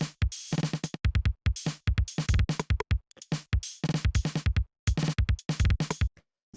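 A glitchy IDM drum loop, played completely dry with no effects: punchy kicks and crisp snares in rapid, stuttering bursts broken by abrupt gaps, close and loud, with no voices.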